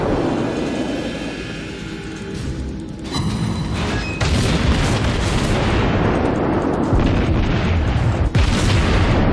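Warship guns from the World of Warships video game fire in a loud, dense barrage, with heavy booms and broadband blasts following one another almost continuously, and a sharp burst standing out near the end.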